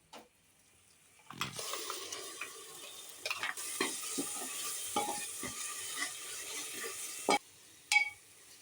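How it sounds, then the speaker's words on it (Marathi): Tomato and coriander paste hits hot oil and masala in a pressure cooker for chicken rassa, setting off a sudden loud sizzle. The frying crackles on steadily with spoon scrapes and clinks against the pot, and there is no talking. "एक टोमॅटो आणि कोथिंबीरची पेस्ट केलेली आहे ती आता ह्याच्यामध्ये मी ॲड करते"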